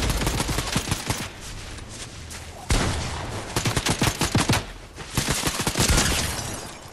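Bursts of video game gunfire crackle loudly in rapid volleys, dense overlapping shots filling the whole stretch with brief pauses between strings.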